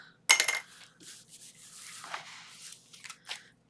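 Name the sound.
scissors fussy cutting black cardstock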